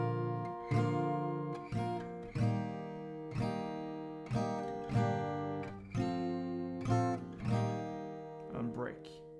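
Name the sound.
acoustic guitar strumming a song's pre-chorus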